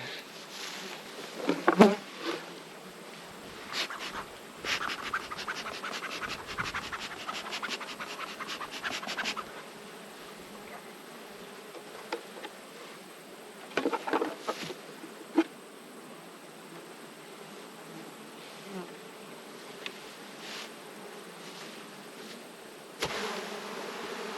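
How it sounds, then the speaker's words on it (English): Steady buzzing of many honey bees close by at an open hive, with scratchy, crawling rustles and occasional louder passes near the listener. "This looks like a good colony of bees"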